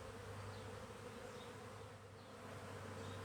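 A dense, steady buzz of many honeybees at an open hive during inspection, close and continuous, with no voices.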